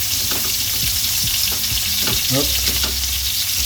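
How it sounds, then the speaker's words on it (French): Moroccan kefta meatballs fry in a pan with a loud, steady sizzle throughout, broken by a few soft clacks as they are moved about, and a voice says one brief word. "on les enlève et on les remplace par des nouvelles boulettes pour poursuivre la cuisson"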